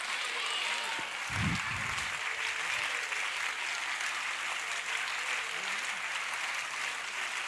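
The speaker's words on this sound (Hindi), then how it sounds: "एक बार वो वाली ताली बजाइए जो हम अक्सर स्कूल्स में बजाते हैं" An audience at a culmination ceremony claps steadily in dense, sustained school-style applause, with a brief low voice or thump early on beneath the clapping.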